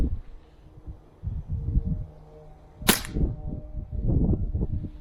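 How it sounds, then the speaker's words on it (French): A Cybergun Glock 17 Gen4 airsoft pistol fires once indoors, its pellet striking plasterboard with a single sharp, loud crack amid quieter handling rustles and thumps. "Je viens de tirer dans le placo."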